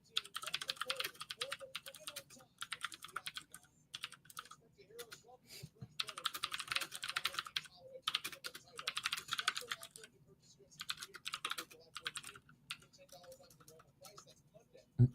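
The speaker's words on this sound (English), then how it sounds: "Don't mind my mechanical keyboard clicking and clacking in the background." A mechanical computer keyboard clatters in rapid bursts of crisp clicks and clacks, separated by brief pauses, fairly close, with quiet talk low in the background.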